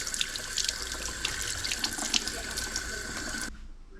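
Kitchen tap water running steadily into a sink while a freshly cleaned brook trout is rinsed, a continuous splashing hiss that cuts off near the end, leaving quiet room tone.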